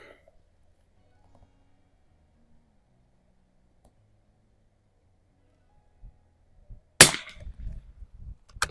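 A Mossberg 146BA rifle, an old .22 with iron sights, fires at a target 50 yards away: one sharp, loud crack after a long quiet stretch, then a short rattle of handling noise.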